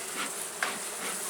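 Honey bees buzzing softly around an open nuc hive during an inspection, a faint steady hum with a couple of brief louder swells, no talking.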